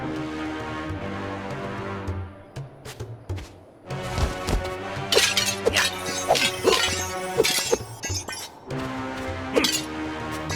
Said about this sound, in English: You really smashed those objects!